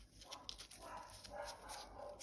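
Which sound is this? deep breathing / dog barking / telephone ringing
dog barking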